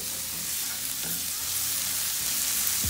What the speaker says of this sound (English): I'm going to give it a little saute again, a little turn with the